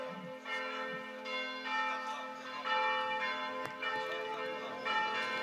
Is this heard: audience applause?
no